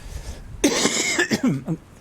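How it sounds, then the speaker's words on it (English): A person coughs several times in a harsh, throaty burst, close and loud, ending with a few rougher throat-clearing hacks. "still got that bit of that cough left"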